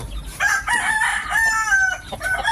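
Hen of the Bulik McLean Sweater chicken breed with blue legs, giving a drawn-out, wavering call with a few short breaks, close and fairly loud against quiet surroundings.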